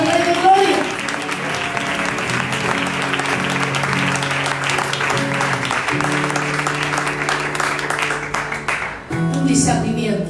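A church congregation applauding during a prophetic night service marking a ministry anniversary: sustained crowd clapping mixed with sustained musical tones and a voice, easing off near the end.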